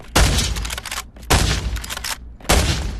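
Three loud, booming hunting rifle shots in the virtual reality shooter Pavlov, evenly spaced about a second apart, each with a sharp crack and a long rumbling tail.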